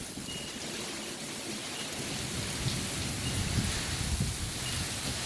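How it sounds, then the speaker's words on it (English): A monsoon thunderstorm on a 99-degree day brings heavy, pouring rain in a dense, steady roar, with low thunder rumbling underneath throughout. "It's 99 degrees outside and it's pouring thunder and lightning."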